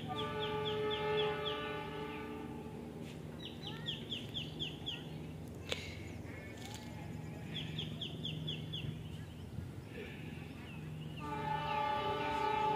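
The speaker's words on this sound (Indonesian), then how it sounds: "Nah semboyan 35 dari KA Cikuray Ini dia KA Cikuraynya akan segera menikung" The KA Cikuray passenger train sounds its horn on a curve, long loud blasts repeated over a distant rumble of rolling wheels, with roosters clucking and crowing nearby.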